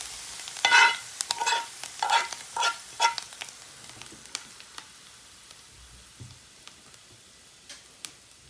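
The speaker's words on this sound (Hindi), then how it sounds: "अब हम ये तड़का दाल पर लगा देंगे इस तरह से।" A hot oil and spice tempering sizzles and crackles sharply as it is poured onto cooked masoor lentils, loud at first then fading into scattered pops and ticks.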